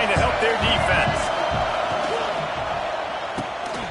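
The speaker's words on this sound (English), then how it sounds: "Listen to this crowd just shaking the girders of this place, trying to help their defense." A stadium crowd at a college football game roars continuously, loud and dense, with a steady wall of cheering and noise throughout.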